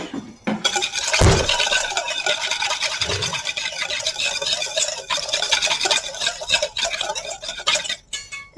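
A whisk works through a roasted chickpea mixture in a bowl, a steady rasping, scraping swirl close up with a couple of dull knocks against the bowl, fairly loud and continuous, no speech.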